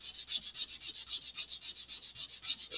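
Sandpaper rasps back and forth over a model rocket part for an Estes Black Brant XII build, widening a groove, in a steady rhythm of about five strokes per second, close and alone.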